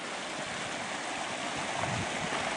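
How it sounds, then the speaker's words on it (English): A creek flows with a constant rushing babble of water, steady and moderately loud throughout. "You can hear the creek down here pretty soon."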